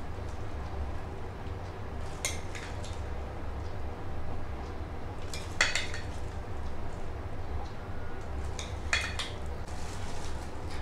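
Chana chaat being served from a pan into a dish with metal utensils, producing a few sharp clinks and scrapes at intervals over a steady low background hum; fairly quiet, no speech.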